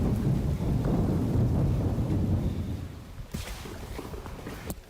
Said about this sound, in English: wait till this storm dies down